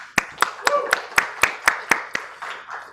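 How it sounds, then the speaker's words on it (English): Eight sharp, evenly spaced handclaps ring out close and distinct as a small round of applause for speakers at an event on US-Korea-China-Taiwan relations, with a faint voice underneath. "please help me to give a round of applause to our wonderful speakers today"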